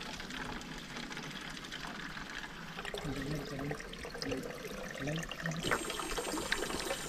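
Water flows and trickles in a lush forest, a faint, continuous babble with no voices.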